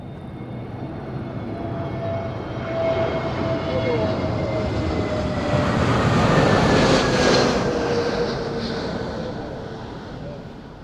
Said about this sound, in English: Great landing here, was a bit unstable approach, but really nice.